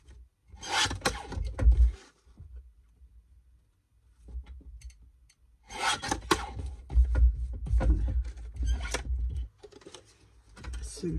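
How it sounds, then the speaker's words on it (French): Scissors cut out a paper card in two bursts of crisp, close snipping and rustling, separated by a quiet pause. "Et je découpe."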